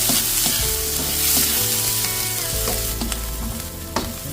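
Onion and garlic fry in hot cooking oil, a steady loud sizzle with occasional scrapes and stirs of a utensil running throughout, no talking.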